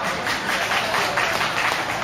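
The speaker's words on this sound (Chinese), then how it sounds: "掌声鼓励。" An audience gives steady, moderately loud applause at a Taiwanese folk song singing contest final, continuous clapping from a crowd with no speech over it.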